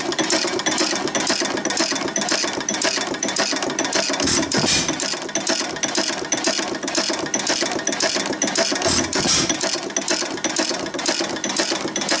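An old hit-and-miss engine runs steadily with a fast, even mechanical clatter, loud and close, with a couple of brief deeper thumps as it fires while coming around, and no talking.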